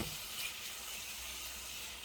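Meat browning for gumbo in a pot on high heat, giving a steady, even sizzle that hisses on without a break, fairly faint and heard alone.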